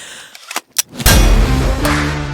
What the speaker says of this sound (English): I thought I'd shoot my pellet rifle here at the ranch